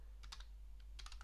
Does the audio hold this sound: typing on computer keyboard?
yes